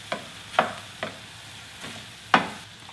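Pork and kimchi stir-frying in a pan with garlic, a utensil scraping and stirring in several sharp strokes over a steady low sizzle, close and alone.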